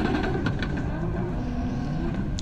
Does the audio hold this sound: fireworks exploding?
no